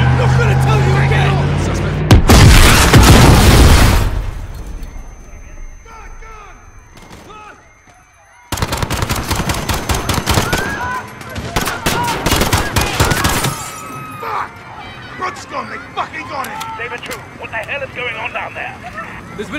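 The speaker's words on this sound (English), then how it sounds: "Shots fired. Officers down." Heavy automatic gunfire in Call of Duty Modern Warfare during a London attack, with loud rapid machine-gun bursts in two long stretches, separated by quieter sounds, with shouted voices and radio chatter between them.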